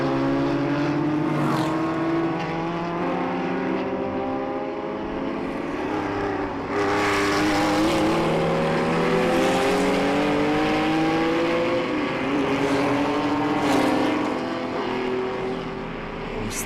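A 4.7-litre 289 Ford GT40 race car roars past at a classic circuit race, engine note rising and falling through gear changes, with several other cars swelling in and fading over a long continuous stretch of track noise.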